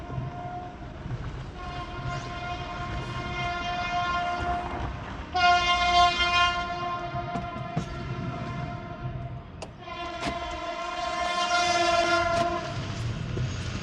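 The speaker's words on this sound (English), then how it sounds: "Oh, it's a train." A train rolls steadily past, its horn blaring in long sustained blasts over the rumble and clatter of the cars.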